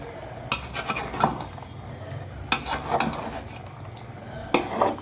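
Chicken feet being stirred and sautéed with potatoes in a pan, heard as irregular metal scrapes and clinks of a spoon against cookware over a low kitchen background, with a few sharper knocks spread through the stretch.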